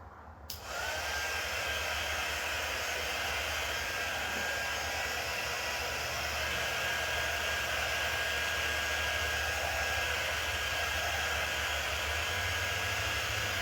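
A hair dryer blows steadily on a door tag, switching on abruptly at the start and then roaring as a loud, constant close-up whoosh of airflow with a faint motor whine underneath, with no talking.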